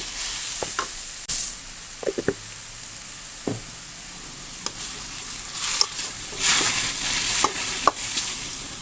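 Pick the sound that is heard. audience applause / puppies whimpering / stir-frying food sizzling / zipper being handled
stir-frying food sizzling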